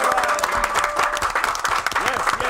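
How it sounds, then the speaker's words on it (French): A show audience applauds steadily, with dense clapping and some cheering voices, sustained and loud. "Alors, est-ce qu'on peut acclamer bien fort?"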